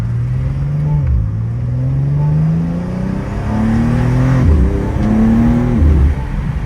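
A BMW M2 is heard from inside on the road, its engine droning loudly and close as it pulls through rising gears with repeated revving climbs and brief dips at each shift.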